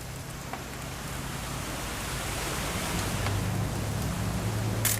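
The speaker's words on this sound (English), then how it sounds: "It's gonna rain the whole weekend, isn't it?" Rain falls steadily in the game What Remains of Edith Finch, a dense, even hiss of drops that holds at a constant level throughout, with faint low tones beneath.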